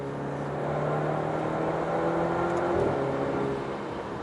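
An Alfa Romeo Stelvio Ti Sport with a Centerline Stradale exhaust accelerating, a steady engine drone that swells and rises in pitch, heard from inside the vehicle and holding at a fairly even loudness.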